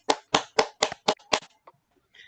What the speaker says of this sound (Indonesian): tepuk tangan dulu untuk kelompok 2